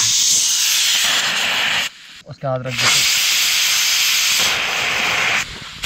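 Pressure cooker whistle at a winter campsite in the Roopkund jungle, with loud, sustained steam hissing that breaks off briefly while someone speaks, then starts again.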